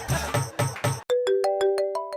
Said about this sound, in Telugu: మన సీనియర్ ఫోన్ చేస్తున్నాడు రా